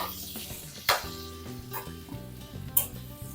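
Chopped small shallots tipped into a pan of frying potatoes for a homestyle Kerala meal, giving a soft steady sizzle with a couple of sharp clatters of utensil against pan.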